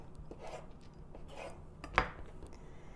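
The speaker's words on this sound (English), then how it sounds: "This is mozzarella. I'm just going to cut up little strips." A knife cuts mozzarella into little strips on a board, with soft quiet slicing strokes and one sharp tap of the blade near the end.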